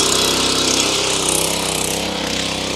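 A small-engine mini tractor runs close by with a loud, steady mechanical chatter and buzzing drone, like a lawn mower or power tool, throughout.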